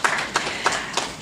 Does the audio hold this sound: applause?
yes